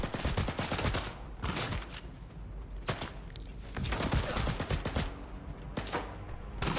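Gunfire rattles in bursts during STALKER 2 gameplay as the player is hit, loud repeated volleys separated by short lulls, no talking.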